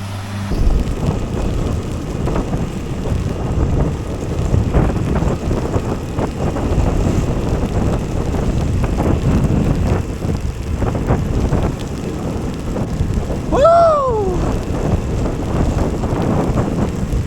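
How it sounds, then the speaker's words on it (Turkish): Steady, loud wind rush and road roar from a motorcycle ridden in the rain near Bedugul, Bali, captured by a front-mounted GoPro, continuous throughout with a brief rising-falling whine near the end. "Yağmurda ilk defa motor süreceğiz."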